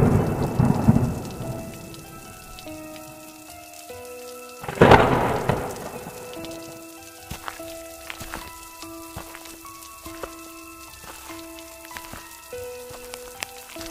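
A heavy thunderstorm on a stormy night: steady rain hiss with a loud crack of thunder partway through, under layered music tones.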